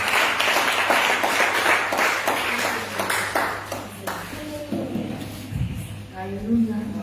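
Congregation at a nighttime prayer vigil clapping and cheering loudly together for several seconds, dense crowd applause with voices shouting over it, then thinning out as a few voices and scattered claps remain.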